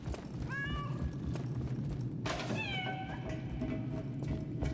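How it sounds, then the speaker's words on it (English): A cat in the video game Lies of P meows twice, a short mew followed after a pause by a longer rising-and-falling meow, heard clearly over a steady low ambient rumble. "Oh, a cat."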